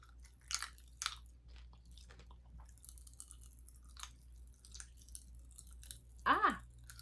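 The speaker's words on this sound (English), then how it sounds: "So I'm chewing it." Crackling firework candy snack being chewed close up, with soft crunches and scattered sharp pops and crackles, faint and intermittent, ending in a louder crunching burst.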